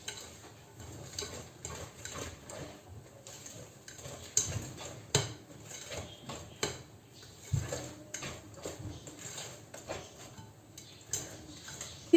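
Mango cake batter being whisked in a bowl, producing a steady, rapid ticking and clinking of the whisk against the sides, close and fairly quiet with irregular louder taps.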